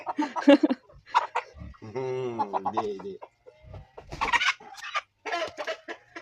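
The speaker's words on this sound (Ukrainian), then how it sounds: "Нащо ти мучиш курку?" Chickens cluck and squawk up close in agitated bursts, with people talking in between.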